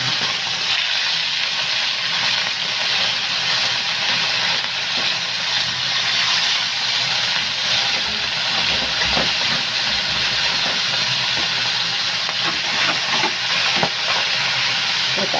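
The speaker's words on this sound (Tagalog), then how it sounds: "Prituhin na natin ang ating dalagang bukid." Dalagang bukid fish frying in oil gives a loud, steady crackling sizzle that runs unbroken throughout, close and alone.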